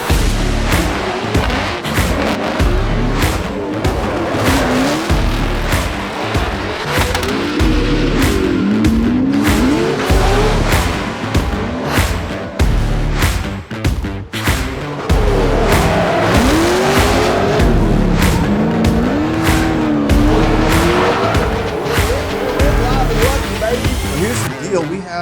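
A drift car at a competition event revs hard and squeals its tires through long slides, the engine note rising and falling in repeated loud passes while a voice talks over the action.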